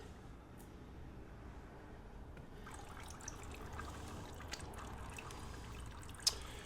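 Coolant drains from a disconnected hose on a Suzuki GSX125S motorcycle, a faint, quiet trickle and drip with a few small splashes and one sharp tick near the end.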